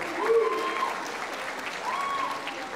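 Steady applause from a theater audience at a concert in the Teatro Municipal in Santos, a continuous wash of clapping with scattered whistles and calls rising above it.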